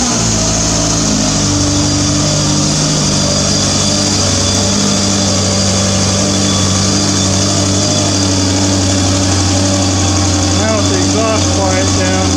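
W.A.R. Corsair replica aircraft engine runs at a steady idle after ignition, a continuous low harmonic drone with a faint higher whine, close and loud throughout.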